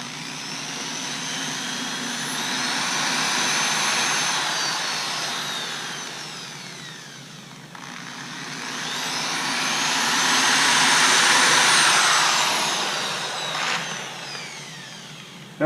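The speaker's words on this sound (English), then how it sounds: "pre-drill a guide hole." Power drill boring a guide hole in a wooden pallet before deck screws go in, a long steady whine in two sustained runs that swell and ease, close and continuous.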